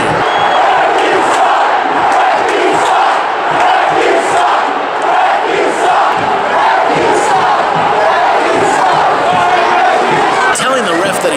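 Soccer stadium crowd at Rio Tinto Stadium roaring and jeering the referee, a loud sustained wall of voices with shouts rising and falling.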